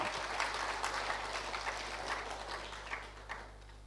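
A church congregation claps together in a dense, steady wash of applause that fades a little toward the end, over a faint constant electrical hum, with no clear ululation standing out.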